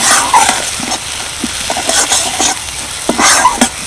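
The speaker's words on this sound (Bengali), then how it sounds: "এবার আমি সব কিছু ভালো করে কষিয়ে নিচ্ছি" Spices with cumin and coriander powder being stir-fried in a pan, close loud scraping and tapping strokes of a spatula over a steady sizzle, without talk.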